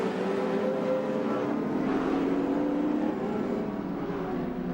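Group A touring cars racing at Amaroo Park in 1987, a steady, loud engine roar with rising revs as cars power through a corner, no voices.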